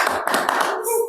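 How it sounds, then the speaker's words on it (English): Audience members clap at a city commission meeting, a brief dense patter of hands heard at close range, with speech mixed in. "Again, the clapping."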